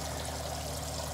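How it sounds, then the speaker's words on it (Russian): Steady, even hiss of liquid fertilizer jets streaming from a linear applicator nozzle on a sprayer boom, breaking into large drops below, continuous and close with no speech. "хорошие струи, которые разбиваются внизу на крупнейшие капли"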